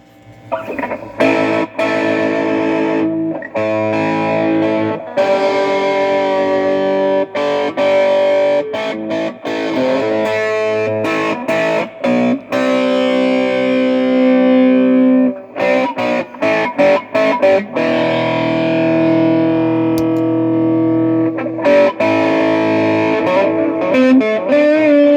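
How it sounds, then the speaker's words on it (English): An electric guitar plays through a modded delay pedal with the amp distortion turned full up, loud sustained distorted chords and notes ringing with echoing tails, broken by brief pauses and sharp attacks over about 25 seconds. "that's with the distortion on the amp full blast"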